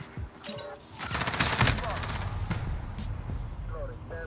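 Bursts of AK-47 automatic gunfire in a shooting video game crackle close and loud, with a voice talking over the shots.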